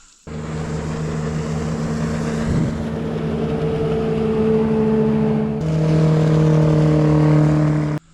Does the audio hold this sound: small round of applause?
no